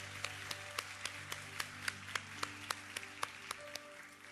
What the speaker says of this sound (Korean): 우리 하나님께 감사와 영광의 박수를 드리겠습니다